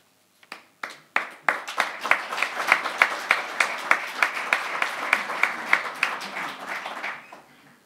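Applause at a company's 70th-anniversary celebration starts as a few scattered claps, then swells into steady, close, lively clapping from an audience before tapering off at the end. No one speaks over it.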